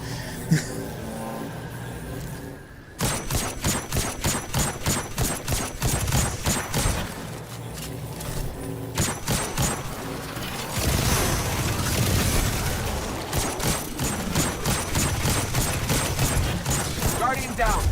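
Gunfire in Destiny 2: Witch Queen: rapid, rhythmic bursts of shots and booming impacts, loud and repeated throughout, with brief pauses and voices in between.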